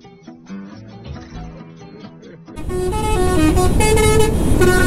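Traffic noise with a sustained, loud car horn honking from the midpoint onward, blaring steadily over the rumble of engines nearby.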